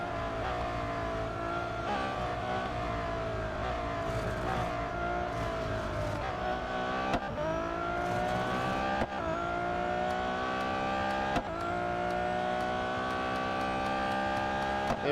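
Race car engines in the video game Real Racing 3 whine steadily at high revs, their pitch sliding and climbing through gear shifts, with several cars droning together close up and no talk.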